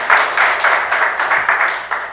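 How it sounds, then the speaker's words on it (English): Audience applause at a political consultation in Chaguanas, steady rhythmic clapping from a crowd, fairly loud and continuous with no talk over it. "please give him a round of applause for the work that he has been doing"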